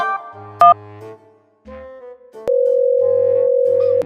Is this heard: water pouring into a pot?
no